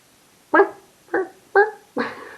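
A man imitates a dog with his voice, giving four short yapping barks at a steady spacing, close and clear with no other talk.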